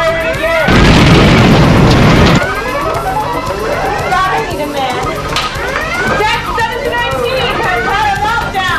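Weapons fire and an impact explosion in a 1992 high-school Star Trek video, a loud roaring burst lasting under two seconds, then chattering, warbling electronic sound effects with voices talking beneath.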